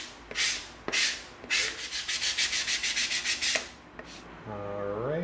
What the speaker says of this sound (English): We're gonna get out our 220 sanding stick.